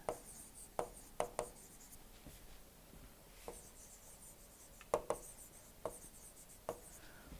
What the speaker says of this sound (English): If we can write here the parameters